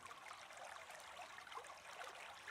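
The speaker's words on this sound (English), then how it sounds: "And perhaps the sound of the cascading river" A cascading river flows steadily and close, a dense continuous rush of splashing water with no voices over it.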